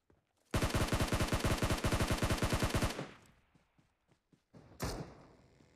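Automatic gunfire in the video game PUBG rattles loudly in a fast, even burst of around two and a half seconds, followed by scattered quieter thumps and one more sharp blast.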